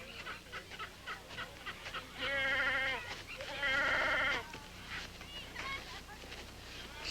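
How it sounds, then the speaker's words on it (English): A goat bleats twice in a farmyard zoo setting, two long wavering calls, loud and close, with a voice briefly speaking between bursts of rustling background noise. "That's a mighty fine Wallace goat you have here."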